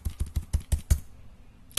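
A computer keyboard in Excel gives a quick run of about six close, crisp keystrokes, then a short pause and one final sharp press.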